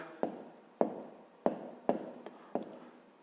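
Pen strokes write numbers on paper for a column addition, five or six short, crisp taps and scratches spaced roughly half a second apart, quiet and close, with no talking.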